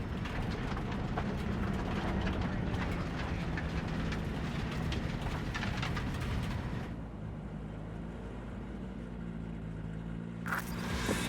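A large train in the video game Cyberpunk 2077 rumbles past with a heavy mechanical roar, then the noise drops to a quieter hum before a sudden burst near the end.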